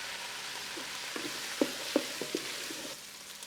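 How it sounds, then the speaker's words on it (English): Bacon frying in a pan for tomato bacon jam, a steady soft sizzle with a few brief crackles and pops, no talk. "we're getting some good browning on the bacon"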